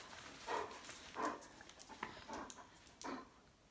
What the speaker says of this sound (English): And a Vegas Golden Knight dog.